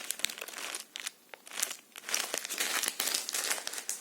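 Dried olive leaves crinkle and rustle in bursts as they are handled close up, with brief pauses between the crackly handfuls.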